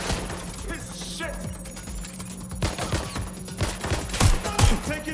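Gunfire in Watch Dogs: Legion, scattered shots and bursts under in-game voices, with a few louder close bangs near the end.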